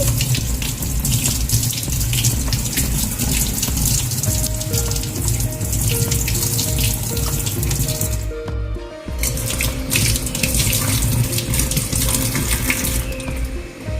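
Running tap water pours steadily into a sink while cleaned squid is washed under it, a loud continuous gush with faint splashing and handling sounds and no talking.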